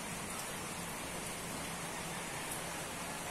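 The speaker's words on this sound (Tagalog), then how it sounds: "Ayan, maambon-ambon." Light drizzle falling outdoors during a fishing outing, a soft continuous hiss of fine rain at steady low level with no talk.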